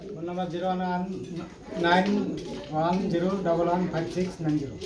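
Pigeons coo in soft, repeated throaty phrases, close by and moderately loud, with a few faint chirps between calls.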